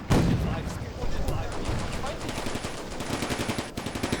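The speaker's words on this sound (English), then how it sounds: "Mostly machine gun." Dense battlefield gunfire in the Combat Mission: Barbarossa to Berlin game, with rapid machine gun bursts and heavier explosive thumps layered over each other. Someone talks quietly underneath throughout.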